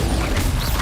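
The Bombarda blasting spell in the game Hogwarts Legacy bursts out as a loud, dense crash, a short heavy explosive thump with grinding debris, sounding alone.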